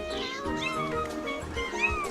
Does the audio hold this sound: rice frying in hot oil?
no